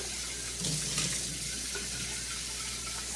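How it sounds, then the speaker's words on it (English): A glass coffee carafe is rinsed under a running kitchen tap, a steady close hiss of flowing water with a brief louder splash early on. "So, just gonna rinse that out"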